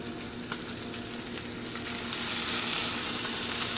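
Asparagus sautéing alongside salmon in a hot pan, a steady crackling sizzle that swells louder toward the end, with no voices.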